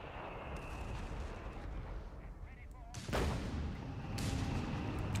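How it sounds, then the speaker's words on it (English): An incendiary grenade bursts in Company of Heroes 3, a World War II strategy game, as a loud sudden whoosh and blast partway through, over steady battle ambience and distant gunfire, with a commentator talking. "It was a incendiary grenade."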